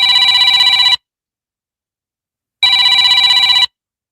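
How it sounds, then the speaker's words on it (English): A telephone rings in two loud electronic bursts about a second long each, separated by a short silence, close and clear with no talking. "my phone is ringing"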